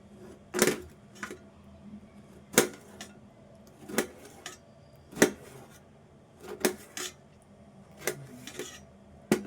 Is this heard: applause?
no